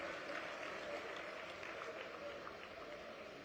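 Applause from an audience at a political gathering welcomes an MLA guest; a steady, fairly faint wash of clapping holds evenly throughout.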